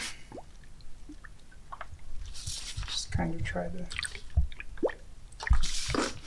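Wet squishing and soft liquid gurgles repeat as a car's top radiator hose is squeezed to burp air bubbles from the coolant, with someone speaking quietly now and then over the sounds.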